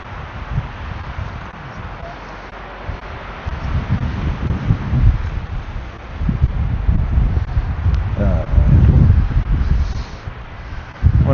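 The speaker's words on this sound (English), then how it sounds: "And that wind is really picking up." Wind gusting across an open outdoor setting at the Grand Canyon, with a steady low rumble and buffeting against the microphone that swells and strengthens in waves throughout, with no talking.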